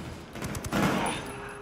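A burst of gunfire from a Ghost Recon: Wildlands firefight: a quick run of shots followed by a heavier boom that rings out and fades, all fairly faint.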